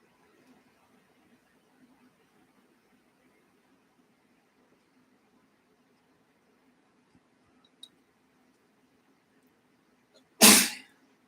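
A single loud, sharp sneeze bursts out near the end, following a long stretch of quiet indoor room tone with faint scattered clicks.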